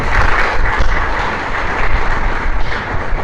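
An audience claps for the Creator at a Spanish-language religious teaching on Torah, steady dense applause that is loud and close, filling the whole stretch without a break.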